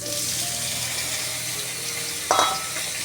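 Starchy water draining out of a pot of freshly boiled rice in a home kitchen, where a small potato was cooked along with it: a steady wet hiss throughout, with a brief clattering splash near the end.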